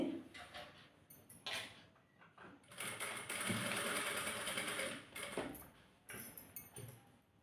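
A sewing machine stitching a baby frock, running in several bursts of rapid mechanical clatter, with one longer steady run in the middle and shorter starts and stops around it.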